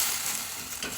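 Peas and whole chillies fry in a pan with a close, steady crackling sizzle and faint stirring, with no voices over it.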